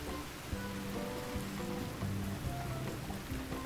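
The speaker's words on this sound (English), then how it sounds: "I think I felt a raindrop just now" Light rain falling outdoors near a cabin, a soft continuous patter of drops on surfaces with occasional louder individual drops, even and unbroken throughout.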